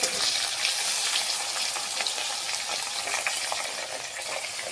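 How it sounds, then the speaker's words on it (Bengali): Onions frying in hot oil in a home village kitchen, a steady dense sizzle and crackle that stays loud and even throughout with no voices. "তো এবার পেঁয়াজগুলো ভালো মতোই ফ্রাই হচ্ছে"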